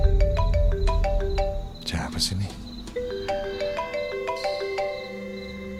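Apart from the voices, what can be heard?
phone ringtone, incoming call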